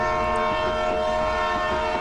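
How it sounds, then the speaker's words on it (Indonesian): A long, steady train horn blares loud and unbroken through the whole stretch, set as an eerie effect on foggy railway tracks in a horror tale. "Terdengar suara klakson kereta yang panjang."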